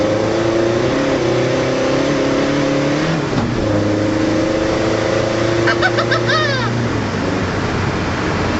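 A race tractor with a VNT turbo from a Volvo drives past close by, its engine roaring loud and steady with rumbling low tones, a short dip and a brief chirping whistle near the end, and a voice talking faintly beneath.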